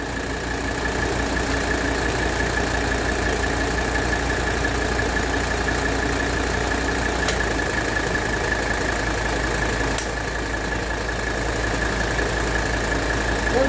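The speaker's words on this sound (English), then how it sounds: "we'll smooth out the engine idle" Idle of a 1985 Mercedes 300TD diesel during an idle-speed adjustment, heard as an even, unbroken engine drone close by with two brief sharp ticks partway through and nobody talking.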